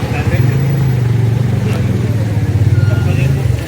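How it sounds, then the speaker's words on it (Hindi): Vehicle engines idle and rumble steadily in a heavy traffic jam on a mountain road in Uttarakhand, a continuous low drone close by with a voice talking over it. "भयंकर वाला ट्रैफिक लगा हुआ है"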